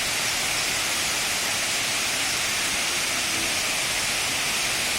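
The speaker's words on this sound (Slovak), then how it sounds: "Lúčanský vodopád." Steady, dense roar of Lúčanský waterfall in Lúčky, Slovakia, a broadband rush that stays constant and loud throughout.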